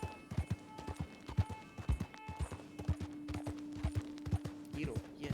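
Hooves of a horse in Fortnite clip-clop rapidly and insistently, a dense run of close, sharp thuds over a steady game tone, alone without speech.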